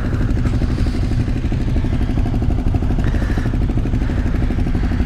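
Motorcycle engines idle and rumble nearby at the 2021 ABR Festival campsite, a motorcycle rally, in a steady, chugging clatter, with no talking over them.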